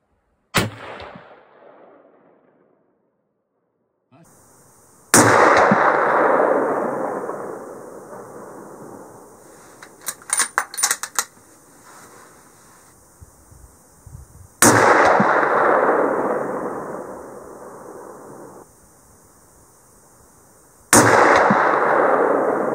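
Heavy rifle shots at an outdoor shoot-off match, three loud sharp blasts spaced several seconds apart, each followed by a long booming decay, with a cluster of fainter clicks and clatter between them.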